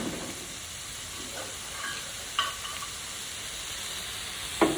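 Water from rinsing a mortar, with kaffir lime leaves in it, poured into a sizzling pan, giving a steady frying hiss with a couple of brief sharp clinks, close and fairly quiet, with no talking.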